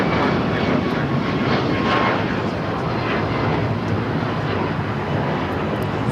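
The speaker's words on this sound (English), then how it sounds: "That is the Alaska flight heading to Chicago O'Hare" An Alaska Airlines jet bound for Chicago O'Hare departs LAX, its engines making a loud, steady broadband roar that holds nearly constant for several seconds.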